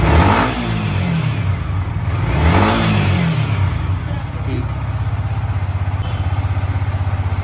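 A Yamaha MT15 motorcycle engine starts and revs, with two rising-and-falling rev sweeps early on before it settles into a steady, close idle.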